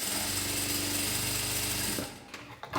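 A sewing machine stitches a blouse with a rapid, even mechanical chatter close by. It runs for about two seconds, then stops, leaving a few light clicks and handling noises.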